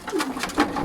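Hungry racing pigeon back from a training toss cooing in short repeated bursts, close and fairly soft, with a little low background noise.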